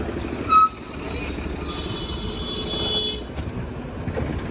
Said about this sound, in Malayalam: ബസ് എത്തി ഗൈസ് നമുക്ക് കയറാം അല്ലേ